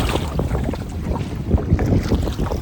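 Strong wind buffets the microphone while paddling a kayak on a lake with whitecaps, a steady loud roaring rush with water sloshing underneath, continuous and close, no talking.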